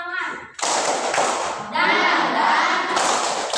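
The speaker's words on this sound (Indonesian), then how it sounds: "Tepuk semangat." A group of people performs a rhythmic spirit clap during an ice-breaking session, loud bursts of hand clapping in patterned sections with voices chanting along between and over the claps.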